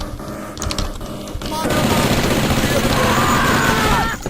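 A Tommy gun firing in the video game Blood: a dense, sustained burst of rapid automatic shots that starts partway through and runs loud and close to the end, with a brief voice early on.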